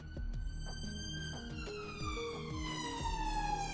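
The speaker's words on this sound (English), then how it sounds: "It's an ambulance" An ambulance siren wails on a UK street, its tones sliding steadily lower in pitch as it passes, fairly faint and distant throughout.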